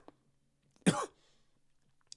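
A single short, close cough or throat-clear from a man, sharp and brief, in an otherwise quiet room.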